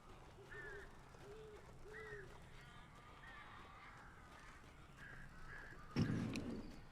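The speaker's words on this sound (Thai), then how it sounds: "อีกาเต็มเลย" Crows caw in the video game Alan Wake, several faint, distant calls repeating at a steady pace over a quiet ambience, followed by a sudden loud thud near the end.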